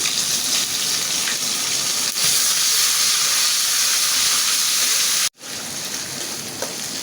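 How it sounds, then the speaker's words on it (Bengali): Ginger garlic paste added to a pan of fried prawns sizzles loudly and steadily, a dense close hiss that runs almost unbroken and cuts out for an instant before resuming, no talking. "মাছটা আমার সুন্দর ভাজা হয়ে গেছে আমি এটার ভিতরেই আদা রসুন বাটা দিলাম"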